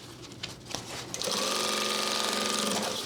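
Sewing machine stitching a back tack on a nylon U-zip duffle bag, a few quick handling clicks, then a loud, steady, close-up motor whir with rapid needle chatter.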